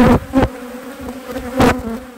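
Honeybees buzz around an opened hive during an inspection, a steady close hum with louder bursts as individual bees fly near.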